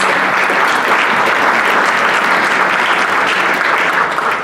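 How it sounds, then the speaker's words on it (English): A loud, sustained round of applause from a Rotary Club luncheon audience, many hands clapping in a thick, steady roar that holds evenly from start to finish. "So let's give her a round of applause."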